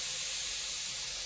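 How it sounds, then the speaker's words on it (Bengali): Leafy greens (shak) sizzling in hot oil give a steady, even hiss that holds level and fairly loud throughout, with no voices. "এই তো মৌ শাকটা তেলে দিয়ে দিচ্ছে"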